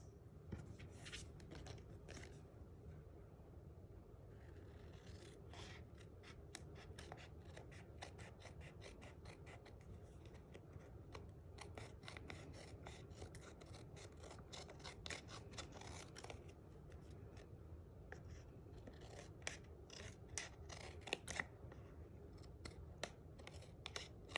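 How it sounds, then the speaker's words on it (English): Metal snips trimming the edges off layered paper card pieces for a Christmas card, a long run of quick crisp clicking cuts and snips close by, steady and without talk. "we're just going to take our snips and trim off the edges"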